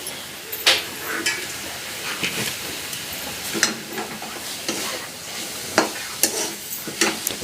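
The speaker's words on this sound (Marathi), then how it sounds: "आपण सुद्धा आपण कूट टाकणार आहे आणि पुन्हा परतून घेणार आहे" Drumstick leaves and crushed peanuts being stir-fried in a pan, a soft continuous sizzle broken by repeated sharp scraping strokes of a spatula against the metal.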